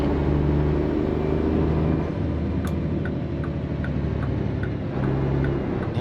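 A Mack E7 400 hp truck engine drones in American Truck Simulator, a steady close low rumble with a light regular ticking running over it.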